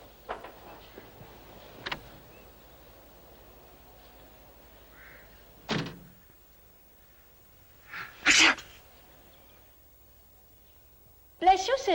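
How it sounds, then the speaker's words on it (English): Several short, sharp sneezes burst out at irregular intervals within a quiet room, the last two the loudest and closest, with light ticking and faint murmuring between them. "bless you, sister"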